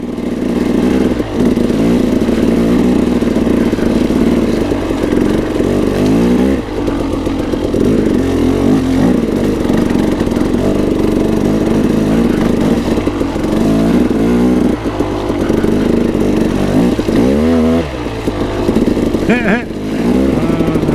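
A KTM 300 dirt bike engine labors up a sloppy, muddy rocky hill, droning loud and close with repeated revving surges and brief dips, a rider's voice coming through over the engine.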